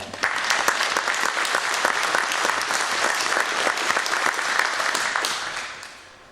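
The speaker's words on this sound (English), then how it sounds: "So you can give them a round of applause for that" Sustained audience applause fills the room, a dense steady wash of many hands clapping at close range that holds evenly for several seconds before tapering off at the end.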